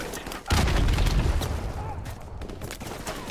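Gunfire in the video game Modern Warfare Remastered: a sustained, loud fusillade of rapid shots starting abruptly and continuing with dense, booming rattle throughout, with a voice speaking over it.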